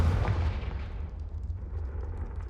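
The Confringo spell from Hogwarts Legacy lands as a single deep, booming blast with a heavy low thud, then fades into a rumbling tail.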